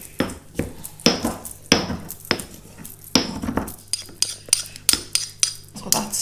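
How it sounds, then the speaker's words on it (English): Garlic crushed by hand in a bowl while cooking a healthy tikka takeaway-style dish; a series of sharp, hard knocks and clinks, roughly one or two per second, close and fairly loud, with no talk over them. "now I'm going to crush my garlic again"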